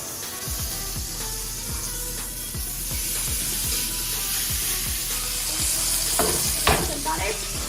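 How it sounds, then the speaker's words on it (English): A 1.5 pound porterhouse steak sears in a hot pan, giving a steady, close sizzle and crackle with repeated sharp pops and spits throughout. "So now we're gonna let it sear for 3 minutes on one side."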